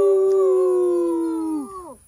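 A person imitates a wolf howl outdoors in a single loud, sustained tone that holds steady and then slides downward as it fades, with no talking.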